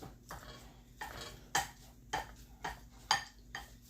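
Burger press and meat separator being rinsed and handled at a sink, giving a series of clattering metallic knocks and clinks roughly every half second over a steady low hum and running water, fairly close, with no talking.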